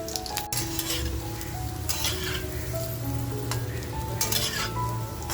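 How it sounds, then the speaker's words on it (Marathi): Jawla dry fish kofta frying crisp in oil over a slow-to-medium flame, a steady close sizzle with occasional stirring scrapes and light clinks running throughout. "स्लो टू मीडियम फ्लेमवरती आपल्याला एक छान असे क्रिस्पी फ्राय करून घ्यायचे."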